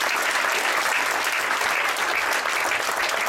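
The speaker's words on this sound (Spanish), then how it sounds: "Yo quiero que la iglesia le dé un aplauso fuerte al Señor de bienvenida a nuestros amigos en esta noche." A church congregation applauds loudly, dense steady clapping filling the room without pause.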